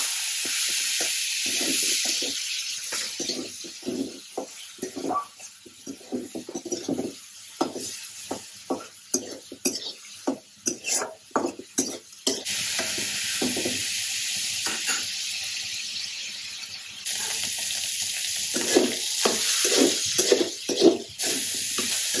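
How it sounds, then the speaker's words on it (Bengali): Prawns frying in a pan for a bottle gourd seed mash sizzle and hiss steadily, broken by bursts of stirring and scraping, close up with no talk. "আমার চিংড়ি মাছ ভাজা হয়ে গেছে"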